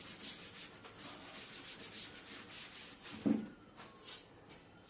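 A board being rubbed out during a maths lesson, a soft close scrubbing that comes in short rhythmic strokes, with a slightly louder bump near the end.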